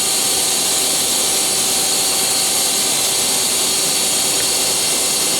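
Main spindle of a Mazak QTN 100II CNC lathe running up to speed, a steady, continuous mechanical hum and airy whine with a faint high tone, holding even throughout with no talk.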